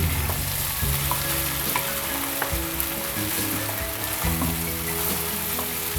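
Green chillies frying in hot oil in a pan with chicken for bhuna khichuri, a loud, steady sizzle with stirring scrapes and clanks throughout, close up and continuous, with no voices.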